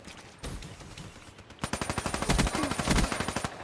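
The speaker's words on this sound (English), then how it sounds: "I like how they added that you could shoot underwater now." Underwater gunfire in the video game Black Ops 3: after a few muffled thumps, a rapid, evenly spaced automatic burst fires for about two seconds, fairly loud and close.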